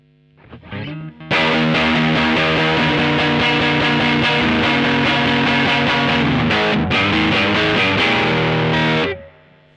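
An electric guitar runs through a TC Electronic Dark Matter distortion pedal, with a few quiet notes before a loud, thick, fuzzy wall of sustained chords that cuts off near the end.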